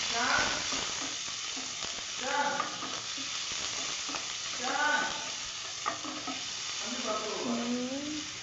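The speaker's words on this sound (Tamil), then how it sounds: "நம்ம கட் பண்ணி வச்சிருந்த வெங்காயத்தை போட்டுக்கலாம். நல்லா மிக்ஸ் பண்ணிக்கலாம்." Chopped onions being stirred in a pan while cooking idli upma, a steady spoon scraping and soft sizzle repeating in short strokes throughout, close by with no talking.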